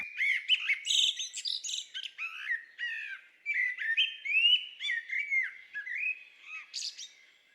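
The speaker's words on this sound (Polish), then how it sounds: "Posłuchajmy fragmentu znów na przykładzie kosa." Melodic common blackbird song with varied fluting phrases and chirps, sung continuously and fairly close, with no other sounds.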